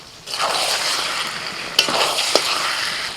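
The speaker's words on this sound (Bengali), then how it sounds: "এবার 2-4 মিনিট আরও ভালো করে কষিয়ে নেব।" Chicken legs sauté with spices in a pan, giving a steady, close sizzle with a couple of light clinks from stirring and no voices.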